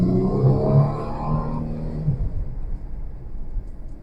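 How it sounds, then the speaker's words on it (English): A Ford Mustang V6 engine rumbles while driving, heard up close as a throaty low drone with a rising rev that then fades down to a softer, rougher hum. "I know it's just a V6. You can feel it, you can hear it."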